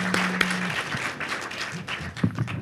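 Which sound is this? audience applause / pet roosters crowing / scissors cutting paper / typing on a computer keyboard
audience applause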